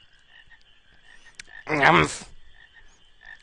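In the video game Final Fantasy IX, a single short, loud frog croak bursts out for about half a second over a faint, quiet game ambience.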